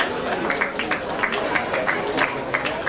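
An audience at the Dodge County Fair swine show gives steady, dense applause, a continuous wash of clapping with a few sharper claps, heard from within the crowd.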